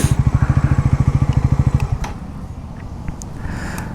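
A Bajaj Pulsar NS400Z motorcycle idles with a rapid, even, thumping beat close by as it is parked, then the engine cuts off halfway through, leaving faint background noise and a few small clicks.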